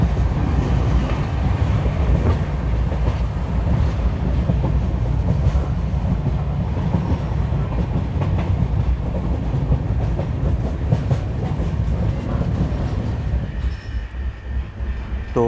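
A YPR-LUR Express passenger train runs steadily, heard from inside a sleeper coach, with a continuous loud rumble and rattling wheel clatter throughout, no voices.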